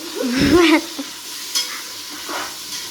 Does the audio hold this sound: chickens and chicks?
no